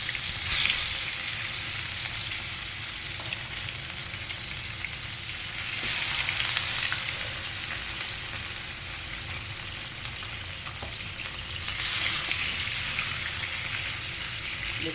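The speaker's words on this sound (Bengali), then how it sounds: "দেখছেন মাছটা ভাজি হয়ে যাচ্ছে আমার" Fish frying in oil in a pan gives a steady, dense sizzle throughout, with brief louder surges of crackle every few seconds.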